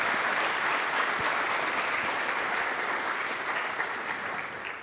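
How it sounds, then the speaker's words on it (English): Audience applause after a talk on the NIST SP 800-171 Rev 3 update: dense, steady clapping from a room full of people, loud and unbroken, fading only slightly toward the end with no talking over it. "let's give a round of applause."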